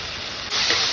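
Curry leaves hit hot oil in a pan with a sudden sharp sizzle halfway through, jumping from a low hiss to a loud, steady crackling spatter.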